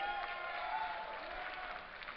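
A crowd at the MLG Dallas 2010 StarCraft II match applauds and cheers in a dense, continuous wash of clapping that holds steady throughout.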